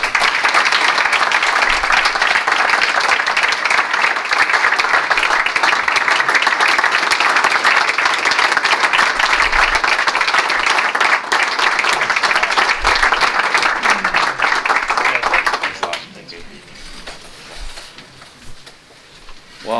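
An audience applauds a Hall of Fame inductee at the Breck Athletic Hall of Fame ceremony. The clapping is dense and steady for about fifteen seconds, then abruptly thins to a quieter scatter of claps.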